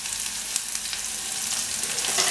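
Onion and garlic frying in oil for an egg masala make a loud, continuous crackling sizzle up close, steady throughout with no voices.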